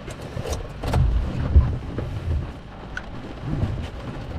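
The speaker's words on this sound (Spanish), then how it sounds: "olha qué lindo para dormir con esta lluvia" Steady night rain in Itapema, Santa Catarina, Brazil, falls with soft patter and occasional heavier rumbles, no talking, a continuous wet hiss throughout.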